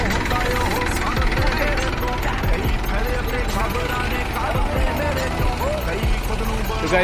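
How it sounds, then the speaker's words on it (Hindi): Three tractors yoked together in a rural Indian setting, their engines running at once in a loud, continuous mechanical clatter with rhythmic knocking and rattling. "यहाँ पर ट्रिपल ट्रैक्टर लगा है गाइस"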